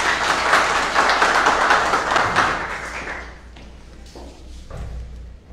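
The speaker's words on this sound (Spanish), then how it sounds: "Fuertes los aplausos para recibir a nuestra alcaldesa." Loud crowd applause at a local queen's coronation ceremony in Urdaneta, welcoming the mayor, with dense clapping for about three seconds, then fading to a few scattered claps and thuds.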